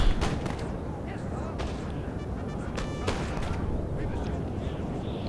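Napoleonic musket volleys crackle in a Total War battle on a jungle map, dense rolling gunfire and distant booms layered over a constant loud battlefield rumble, with scattered sharper shots.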